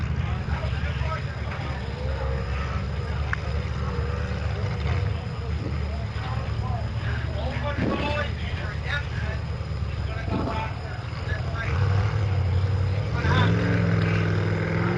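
Racing motorboats at a harbour boat race, with a steady, loud low engine drone throughout and a rising roar near the end as a boat passes closer. Voices are faintly audible in the background.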